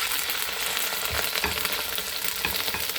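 Small anchovies (dilis) frying in oil, a close, steady crackling sizzle with soft stirring knocks, no voices.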